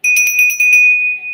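An old collectible bell rings loud and close, a rapid flurry of clangs settling into a sustained bright ring that fades slightly, no talking.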